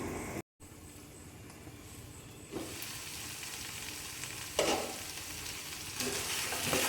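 Pepper chicken curry sizzling and bubbling in a covered pan, a steady loud hiss with a few louder crackling bursts and a brief gap near the start.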